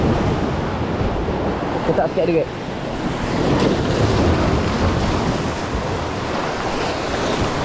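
Sea waves surging against rocks along a shore where someone is fishing from land, a broad continuous wash with wind buffeting the microphone, while someone speaks briefly over it.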